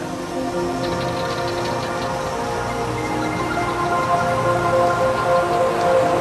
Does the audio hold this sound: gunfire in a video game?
no